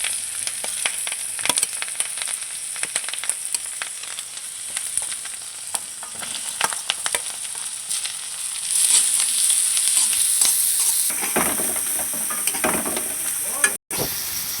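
Onions frying in a pan for chow mein, a steady bright sizzle with stirring and scraping clatter throughout, growing louder and denser toward the end, with no talk over it.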